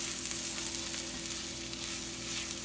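Toasted flour and nutritional yeast being stirred into mushroom gravy in a pan, heard as a soft, steady sizzle with light stirring texture, fairly quiet and continuous with no voices.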